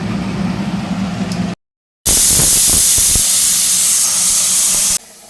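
A pressure cooker vents loudly while cooking little millet bisibelebath, a sustained hissing steam release lasting about three seconds after a short gap, close and strong above a quieter kitchen background.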